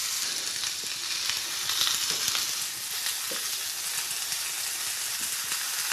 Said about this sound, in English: I've got it all sliced up and ready for us to get the sizzle going.